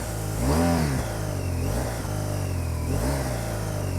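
A 2024 BMW R12 NineT motorcycle engine with ShiftCam starts and settles into a loud, steady, close idle, broken by a few short revs that rise and fall.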